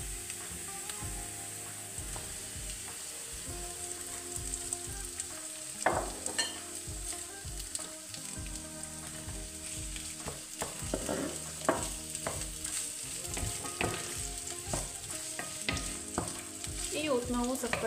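Onion, carrots and peppers fry in a pan alongside chicken fillet, with a steady close sizzle and repeated scraping stir strokes all the way through.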